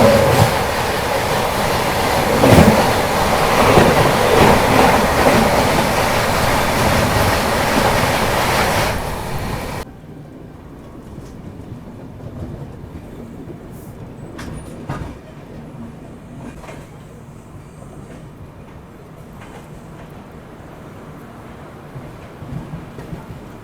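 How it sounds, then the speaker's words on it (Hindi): A passing Amarkantak Express, heard from aboard another train: a loud, steady rush of rail noise for about ten seconds that drops suddenly to a quieter background rumble with light rattles. "अभी सामने से ये आ रही है अमरकंटक एक्सप्रेस।"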